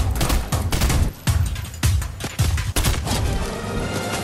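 Gunfire in the game Fortnite, a rapid run of loud, close shots in bursts with brief gaps, alone without talk.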